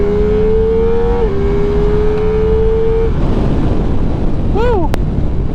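Ducati Multistrada V4S motorcycle accelerating hard in second gear, a rising engine whine that holds steady then drops into rushing wind noise, ending with a brief shift-like sweep.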